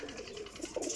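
Breeder pigeons in closed pairs in a loft setup coo softly and continuously nearby, low throaty rolling calls overlapping through the short moment with no voices.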